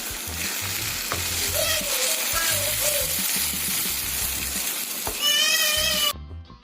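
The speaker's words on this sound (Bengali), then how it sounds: "এবার দিয়ে দিব টমেটো পিউরিটা। আবারও খুব ভালো করে মিক্স করে নিব।" Tomato puree is stirred into a sizzling all-purpose gravy in a pan, giving a steady close frying hiss with repeated scraping strokes of the spoon and a brief louder burst near the end.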